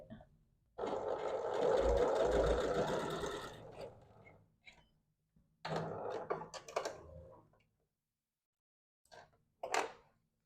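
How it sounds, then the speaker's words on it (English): Sewing machine stitching binding onto ruffled fabric napkins, a steady motor whir running for about three seconds, then a shorter burst after a pause, with faint handling clicks and brief rustles near the end. "And then I'll just finish sewing on my, my binding."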